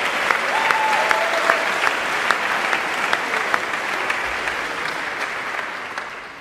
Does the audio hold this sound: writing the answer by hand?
no